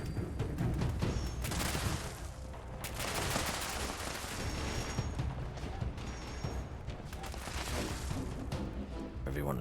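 Gunfire crackles in the Fallout 76 video game, dense bursts and rapid shots layered with game ambience and some voice underneath across the whole stretch.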